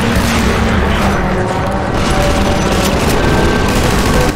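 Loud, dense battle din from Half-Life 2: Entropy Zero 2, with a rocket amid continuous rumbling blasts and gunfire-like bursts, steady and close with no clear gaps.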